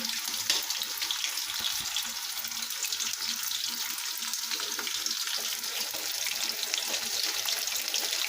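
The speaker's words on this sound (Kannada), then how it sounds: "ಇವಾಗ ನಾನು ಕಬಾಬ್ ಕರ್ಕೊಳತ್ತೀನಿ ನೋಡಿರಿ" Chicken kebab pieces fry in a pan with a constant, close crackling sizzle of oil. The bright, dense spitting runs unbroken and steady from start to finish, with no voices.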